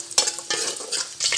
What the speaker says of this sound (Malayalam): ഇനി നമുക്ക് അതേ എണ്ണയിൽ തന്നെ അണ്ടിപ്പരിപ്പും മുന്തിരിയും ചേർക്കാം.